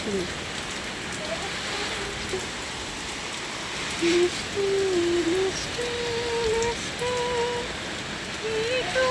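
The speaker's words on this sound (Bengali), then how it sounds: "হঠাৎ দেখো বিশাল ঝড় বৃষ্টি বুঝতেই পারছো কতটা ঝড় হচ্ছে কত বৃষ্টি আর মেঘ ডাকছে" Heavy rain from an evening thunderstorm pours down in a steady, dense hiss, loud and close throughout, while a person talks over it in the second half.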